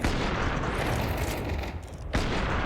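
Dense, continuous gunfire from an AK rifle in a Counter-Strike 2 professional match, loud and sustained with overlapping shots, briefly dipping before resuming at full intensity.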